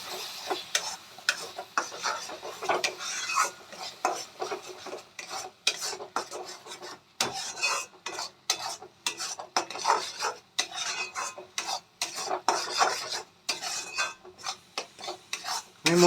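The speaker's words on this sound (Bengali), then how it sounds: "আমি এবার মশলাটা ভালো করে মিক্স করে নেব" Spices with green chillies being stirred in a pan for rohu fish curry, heard as repeated scraping and rubbing strokes of a spoon against the pan in an irregular rhythm, close and moderately quiet.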